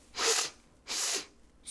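A flea sneezes twice in a children's story, two loud breathy bursts a moment apart, then the start of a third sneeze at the very end, with nothing else around them.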